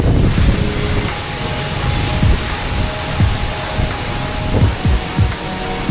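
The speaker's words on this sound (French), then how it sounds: "Et là, on passe clairement derrière la cascade." A waterfall in Iceland rushes loudly as a walker passes behind the falling water, a dense continuous roar of spray and splashing with occasional low thumps.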